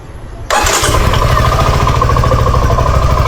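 A Suzuki V-Strom motorcycle engine catches after a brief quiet moment, then settles into a loud, steady, close-up idle with an even rhythmic thrum that runs to the end.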